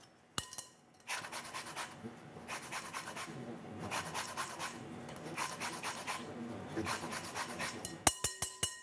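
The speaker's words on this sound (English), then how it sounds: "And now some lemon zest." Lemon zest grated for a berry snack cake, heard as bursts of dry rasping strokes, close and clear, separated by short pauses, with a few light clicks of utensils at the start and end.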